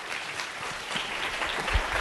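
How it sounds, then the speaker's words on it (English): An audience applauds steadily at a healthcare experience design talk, a dense, even wash of many hands clapping together throughout, loud and without any speech over it. "So please give a round of applause for James Oliver Sr."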